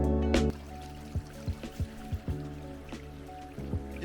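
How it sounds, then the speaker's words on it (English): A waterfall on the Four Waterfalls Walk in the Waterfall Country of Brecon Beacons National Park, Wales, sounds as a soft, steady wash of falling water with scattered close drips and splashes, faint and alone. "That's what we came to see, just this one. This waterfall."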